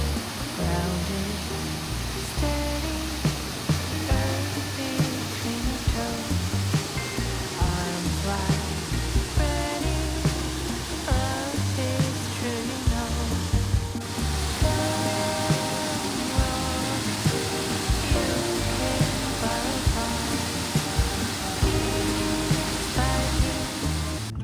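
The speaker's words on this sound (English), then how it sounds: "Here we made it to Solduck Falls. This waterfall plunges about 48 feet into a narrow," Sol Duc Falls plunging about 48 feet into a narrow rocky canyon, a loud constant roar of rushing water filling the whole stretch, close and steady without a break.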